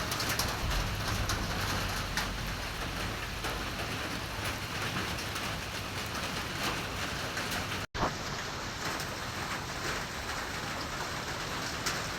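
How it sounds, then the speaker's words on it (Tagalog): Steady rain falls outdoors in a continuous close hiss of drops on surfaces, with faint bird calls in the background. "Maulan talaga siya guys."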